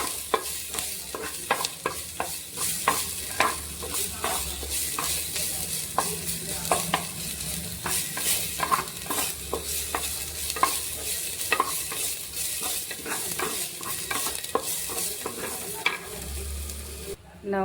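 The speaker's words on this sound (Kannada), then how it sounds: "ನಾವು ಮಸಾಲ ಆ್ಯಡ್ ಮಾಡಿದ್ದೀನಿ, ಸ್ವಲ್ಪ ಫ್ರೈ ಮಾಡ್ತಾಯಿದ್ದೀನಿ ಇದನ್ನು" Crushed garlic, curry leaf and masala frying in a pan for a drumstick-leaf egg fry, with a constant sizzle and repeated sharp spoon scrapes and clinks in a quick irregular rhythm, close and fairly loud.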